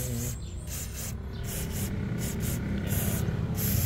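WD-40 water-displacing spray is sprayed onto moving parts as anti-rust maintenance, giving repeated bursts of bright hissing with short gaps, close and steady.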